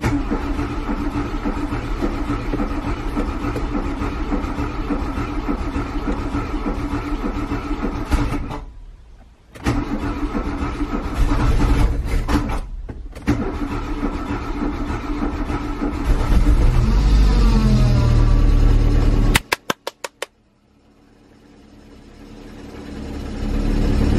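A Volkswagen Golf engine cranks and starts, idles and cuts out, then restarts and revs hard near the end before dropping off abruptly and returning at a low idle.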